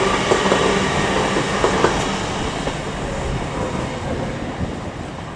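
LNER Azuma train departing York station, a loud steady rumble of wheels and motors close by with faint clicking over rail joints, heard alone without talk.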